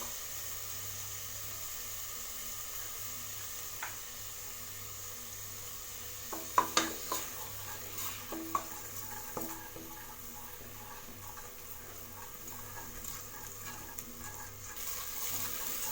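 Chopped tomatoes with a little salt sauté quietly in a pan for coconut rice with chicken gravy, with a low steady sizzle broken by a few clinks and scrapes of stirring in the middle.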